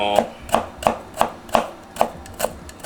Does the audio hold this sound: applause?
no